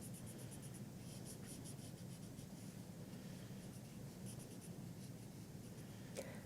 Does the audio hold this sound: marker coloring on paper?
yes